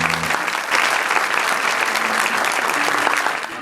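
Loud, sustained applause from a concert audience welcoming a lyricist onto the stage at a Bandırma song event, a thick wash of clapping that swells and then tapers near the end.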